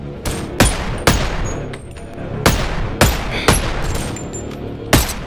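Gunshots in the VR shooter Boneworks. Sharp, loud single shots come at irregular intervals, about eight in five seconds, over a low rumble of background noise.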